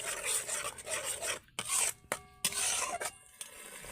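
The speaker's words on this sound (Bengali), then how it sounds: "এবার আমি মশলাটাকে ভালো করে নেড়ে নেড়ে কষিয়ে নেব" Spice paste with chilli powder and a little sugar, stirred and fried in a pan for prawn malai curry, makes close, repeated rasping scrapes and sizzle in uneven strokes, with no one talking.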